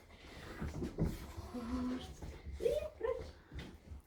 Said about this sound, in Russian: Собачки все игривые.